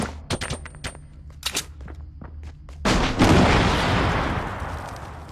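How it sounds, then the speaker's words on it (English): Gunfire in a battle royale video game: several sharp, spaced shots crack in quick succession, followed by a heavier booming burst with a rumbling, noisy tail. "Wait up, I'm shooting a guy."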